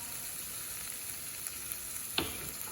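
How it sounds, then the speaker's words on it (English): Meat pie filling sizzles steadily in a hot pan as flour is stirred in, with a brief louder scrape of the spoon near the end. "give it a bit of a stir"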